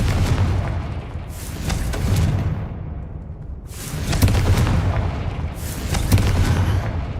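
Confringo fire spell explosions in the Hogwarts Legacy video game: three loud, close, rumbling blasts in succession, each with a crackling tail and deep boom.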